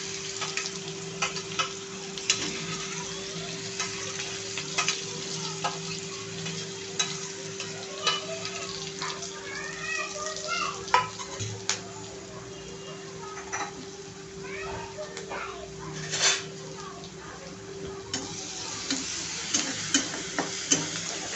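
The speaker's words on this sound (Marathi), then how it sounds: "लसूण आणि मिरची छानपैकी परतून घ्या" Garlic and green chili paste sautés in a pan for a bitter gourd dish, with a continuous close sizzle and crackle. Occasional stirring scrapes and light clinks of a utensil on the pan sound over a low steady hum.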